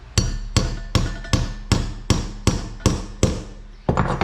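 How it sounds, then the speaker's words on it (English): A hammer strikes a tool to start a hole in a Toyota Tacoma, about nine sharp metallic blows at an even, brisk pace, close and loud. "Okay, we got our hammer ready. We have our hole started. Now, I'm just going to kind of hit it a couple times."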